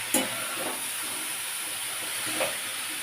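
Grated carrots for halwa being stirred in a pan, a steady hiss of cooking with a couple of soft scraping strokes of the spoon, close by and with no talking.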